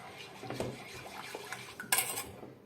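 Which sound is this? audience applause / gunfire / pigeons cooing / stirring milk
stirring milk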